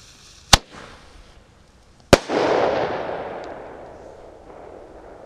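An explosion near a duck pond: two sharp, loud bangs about a second and a half apart, the second followed by a long rumbling echo that slowly fades.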